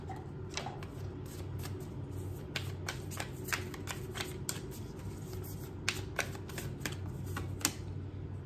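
Tarot cards being shuffled up close, a steady run of crisp riffling flicks and snaps lasting several seconds in a quiet room, with no talking.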